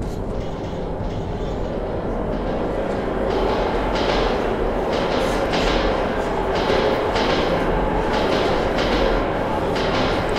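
Metro train rumbling through a tunnel in the video game Metro 2033, a steady loud low roar with faint rhythmic clatter throughout, with a voice speaking over it.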